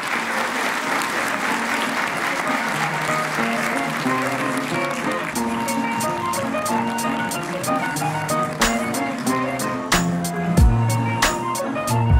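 An audience at a talk on skills recognition in work-integration organisations applauds steadily at first; later the clapping turns sparse and uneven, with a few sharp individual claps and faint background voices.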